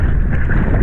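Wind at a beach during a kitefoiling session buffets the microphone in a loud, steady low rumble lasting under a second.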